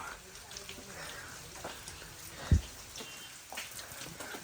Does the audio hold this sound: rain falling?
yes